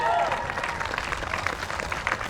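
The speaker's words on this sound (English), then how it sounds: "Round of applause, please." A crowd at a People's Party of Canada event in Hamilton applauds a candidate, steady dense clapping filling the room at moderate loudness with no pause.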